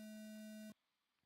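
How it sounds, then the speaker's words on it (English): A steady electronic start tone sounds at the start of an off-road race, a loud, pure held beep lasting most of a second and then cutting off abruptly into quiet. "You guys are going to go racing on the sound of the tone here"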